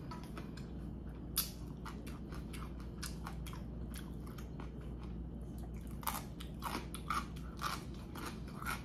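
Jjapaghetti instant black bean noodles being eaten up close, with repeated soft slurps and chewing clicks scattered over a low steady background hum, no talk.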